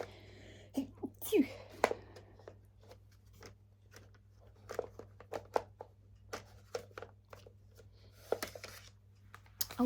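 A few sharp, sudden sneezes come in bursts amid rustling and clattering noises from handling dusty CDs, with a steady low hum underneath.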